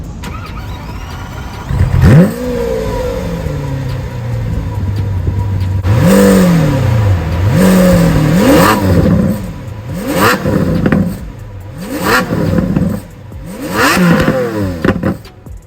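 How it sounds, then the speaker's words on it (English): A Lamborghini Aventador's V12 barks to life through its central exhaust, then revs repeatedly in sharp rising and falling bursts, loud and close, with no talking. "And of course, you got a central exhaust which sounds heavenly."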